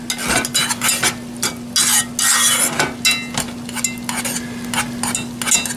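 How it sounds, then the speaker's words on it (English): A whisk beats a thick mixture in a bowl for sauerkraut and wieners, rapid clinking strokes against the sides with uneven rhythm, close and fairly loud, no talk. "Now she's going to whisk it up."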